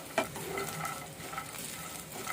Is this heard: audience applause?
no